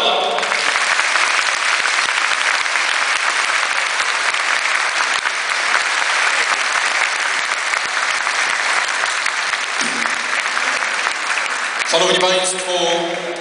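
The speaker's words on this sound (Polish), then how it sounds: "Ogromne brawa!" An audience at a concert applauds in a sanctuary, with sustained loud clapping throughout; a voice begins speaking near the end.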